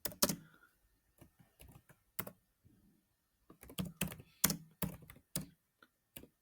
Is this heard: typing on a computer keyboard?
yes